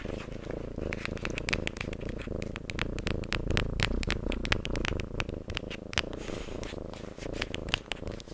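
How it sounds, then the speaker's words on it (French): A pet cat purrs steadily while being held, layered with dense crinkly rubbing of socks as an ASMR trigger, close and continuous with no talk. "Je tiens mon chat et je fais les chaussettes à la fois."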